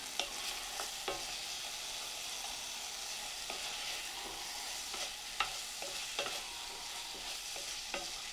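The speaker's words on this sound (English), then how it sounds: "Can you hear that sizzling?" Chana masala with tomatoes and freshly grated ginger sizzling steadily in a pan, crackling fry noise broken by occasional sharp stirring scrapes and taps, no voices.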